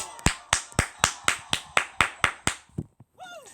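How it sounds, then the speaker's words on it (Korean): A finger snap effect from a Brawl Stars Brawl Ball match repeats as about ten sharp, evenly timed snaps, close and crisp, followed by a short rising and falling tonal chime. "핑거 스냅"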